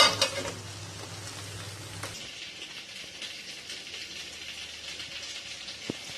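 Bhetki fish pieces fry in a pan after being flipped, with a strong hissing sizzle at first that settles into a softer, steady crackle with a small clink near the end.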